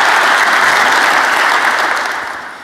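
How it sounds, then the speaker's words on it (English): A keynote audience at a tech conference applauds in a loud, dense, washing roar of clapping that holds steady, then begins to fade in the last second, with no talking over it. "Round of applause, thank you."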